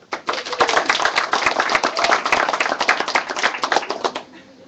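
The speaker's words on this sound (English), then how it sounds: "JPS deserves a round of applause" Audience applause at a live-streamed memorandum signing ceremony, a short burst of sharp, close hand claps that swells quickly and fades out within a few seconds.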